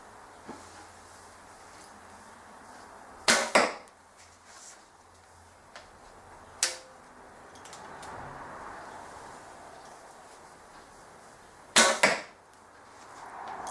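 Bow shots release with sharp twangs and thuds, about three loud ones spaced apart, echoing in a tin-walled workshop entrance, with a few softer clicks between.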